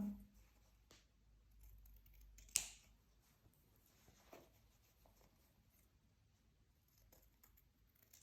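Scissors trim the corners of a fabric seam allowance while a blouse is being sewn. A single crisp snip stands out against a very quiet background, followed by a softer faint click.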